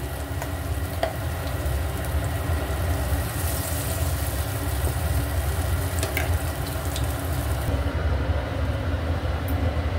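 Chana dal paste frying in hot oil gives a steady, dense sizzle that runs unbroken and fairly loud from start to finish, with faint stirring clicks and no voices.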